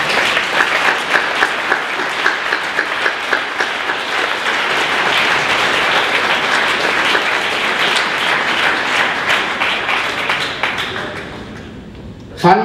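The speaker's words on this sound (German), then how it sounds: "Applaus" Applause at the Swiss Art Awards ceremony, many hands clapping in a dense sustained wash that gradually fades and ends with a brief sharp sound.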